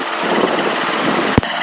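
Helicopter 3 Papa Juliet's engine gives a steady, loud, close droning whir for nearly two seconds, ending in a sharp click and a brief drop.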